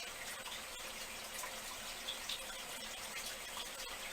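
Thick UV resin poured into a mold, a steady soft trickling pour with no break, quiet and close, running the whole time with no talk.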